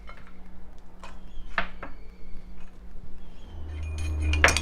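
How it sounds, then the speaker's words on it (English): Garlic crushed with a mortar and pestle while making pepper rasam: scattered sharp knocks and clinks, a few louder strikes and a cluster of them near the end, over a faint background hum. "And now next I'm going to crush this garlic."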